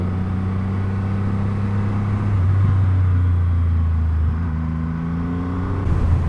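A 2020 Triumph Rocket 3 R motorcycle engine while riding, a steady low droning rumble with slight pitch shifts as the bike moves, loud and continuous without speech.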